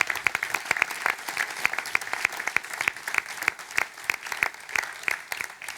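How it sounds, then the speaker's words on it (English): Audience applause at the inauguration of the Aira factory in Poland: a moderate crowd clapping with distinct, uneven individual claps, sustained steadily and heard alone without talk. "I think a round of applause,"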